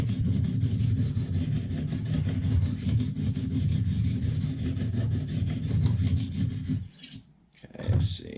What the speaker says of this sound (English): So flip over, same thing on the opposite side. And again, we're with our medium diamond stone here now.